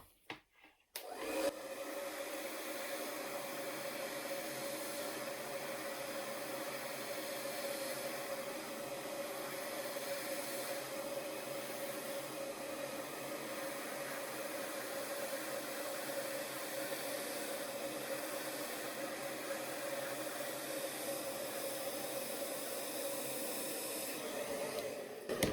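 A hair dryer blows steadily while hair is blow-dried with a brush, giving a constant close airy hiss with no pauses after a short start-up.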